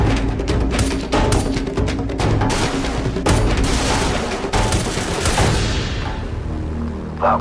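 Gunfire in S.T.A.L.K.E.R. Lost Alpha comes in loud, dense bursts of rapid shots that crack and boom almost without pause for about six seconds before thinning out at the end.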